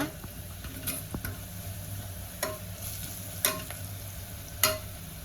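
Fried mutton pieces being stirred with turmeric in a pan for a Telangana vatti thunakala curry: a soft sizzle under a few spaced spatula scrapes and taps, close and quiet, with no talk.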